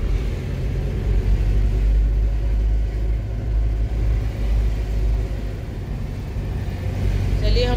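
A car drives along a dark, quiet road at night near Almora, its engine and tyres giving a steady low rumble heard from inside the cabin.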